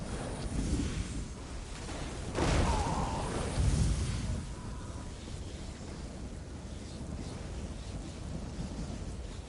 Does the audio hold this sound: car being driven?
no